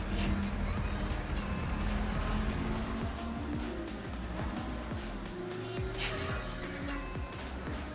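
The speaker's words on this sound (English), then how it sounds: "So we got some sounds of some stuff racing through in this little area here." Cars in the BeamNG driving game race past, a steady wash of engine and road noise with faint tire squeal and passing vehicles at moderate distance, fairly quiet overall.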